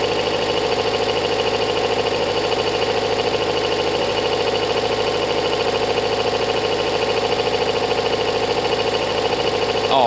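A Kawasaki ZL600 motorcycle engine runs steadily at idle with its coolant hoses still detached, a close, even, rapid chug of firing pulses with a mechanical rattle, no voices over it.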